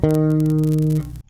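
A single bass guitar bar from a song rings out as one long sustained low note with steady harmonics, played alone and cut off abruptly near the end.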